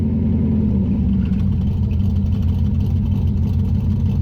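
A V8 engine in a Ford Maverick with a Holley carburetor idles steadily, a low rumbling drone that holds even throughout with no revving.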